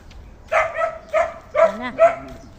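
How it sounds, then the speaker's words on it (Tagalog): Household pet dogs bark in a short run of about four sharp, mid-loud barks, spaced around half a second apart, near and clear over a quiet background. "sahol na ang mga alaga."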